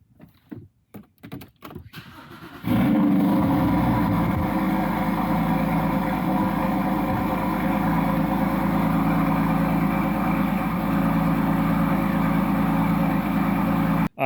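A few clicks and key rattles, then a Porsche 981 engine cranks and catches on a cold start, settling into a loud, steady high idle that runs uninterrupted.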